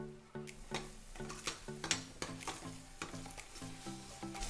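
Masala spices fry in oil in a karahi over low to medium flame, giving a soft, faint sizzle with regular light clicks and taps from stirring, all close and quiet. No one speaks.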